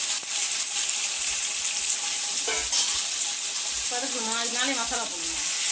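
Chicken liver fries in a pan with a constant bright hiss, a few soft knocks and a brief clatter of stirring near the end, no talk over it.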